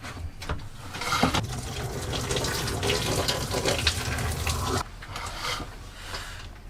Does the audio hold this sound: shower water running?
yes